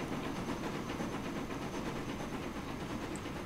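A train in the Transport Fever game rolls along rails with a continuous low rumble and faint rhythmic clatter, alone with no talk, fairly quiet.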